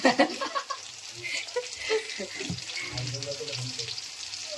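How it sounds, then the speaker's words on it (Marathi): Garlic frying in hot oil in a home kitchen while fish chilli is cooked, giving a continuous crackling sizzle with sharper pops at the start, alongside faint stirring and background voices. "लसूण कडकड कडकड वाजते"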